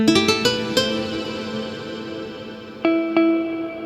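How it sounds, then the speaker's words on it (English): Plucked nylon guitar tones from a Casio CT-S1000V keyboard, a quick run of notes ringing out and decaying, then two more plucks near the end. "Yeah, so it has the nylon guitar,"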